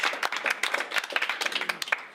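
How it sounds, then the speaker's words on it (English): A small audience at the Magic Circle Close Up Competition 2014 claps for a volunteer, with a short, fairly close burst of distinct individual handclaps. "A big round of applause for this lady as she comes in and helps me"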